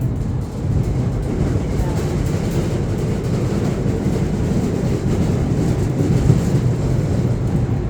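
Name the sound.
BTS Skytrain arriving at station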